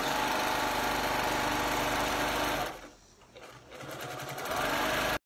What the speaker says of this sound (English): you just start at the top and just sew as accurate as you can, 1/4 of an inch